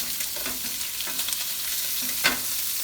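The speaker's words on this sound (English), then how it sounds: "because we want to get a good sear on it." Shrimp searing in a hot pan, a continuous close sizzle with brief scraping and stirring movements and one sharper bump near the end.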